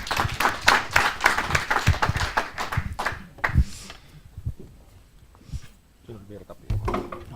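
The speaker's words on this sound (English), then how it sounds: "Please a round of applause." A round of applause from a small audience after a conference tech talk on Docker key and certificate management, a burst of clapping in the first few seconds that quickly thins out, followed by someone speaking.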